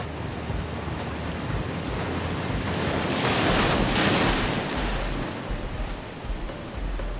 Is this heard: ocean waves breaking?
yes